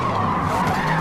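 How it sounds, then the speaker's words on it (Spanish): An Audi RS-7 Sportback 2021 skids in a racing video game, giving a steady, loud tire-scrub roar with engine drone underneath for about a second, continuous and close, with no talking over it. "ese derrape me va a costar tiempo"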